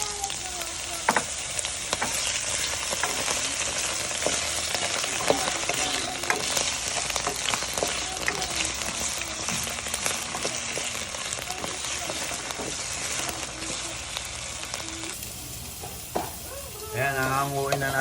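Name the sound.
potatoes frying in oil in a pan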